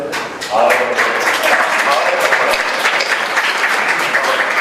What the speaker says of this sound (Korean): 큰 박수로 해주십니다